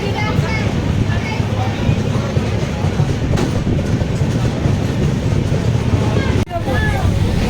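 A passenger train on the Howrah to Digha line rumbles steadily with a loud, continuous low roar and rattle from inside the carriage, with a brief dip near the end and faint background chatter.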